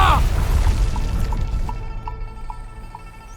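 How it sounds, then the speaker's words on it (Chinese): A mine blast in an animated series lands as a heavy, close boom that rumbles and decays over a few seconds, with faint ringing debris tones fading in the tail. "矿山爆炸了！"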